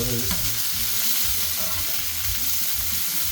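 Chicken and cheese schnitzels fry in grapeseed oil on a flat top griddle, giving a loud, continuous crackling sizzle with no talk.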